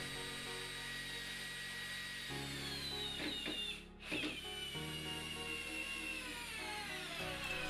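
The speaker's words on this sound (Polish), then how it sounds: "Zobaczmy teraz, jak radzi sobie ta wiertarko-wkrętarka z zamontowanymi adapterami." A Bosch GSR 12V-35 FC brushless 12 V drill-driver with attachment adapters drives a long screw into wood, giving a steady motor whine that holds throughout, with a short dip near the middle before running on.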